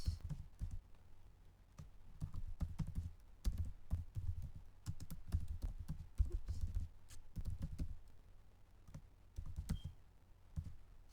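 Irregular clicks and taps of typing on a computer keyboard with the enter key pressed between entries, close and fairly quiet, with bursts of keystrokes separated by short pauses.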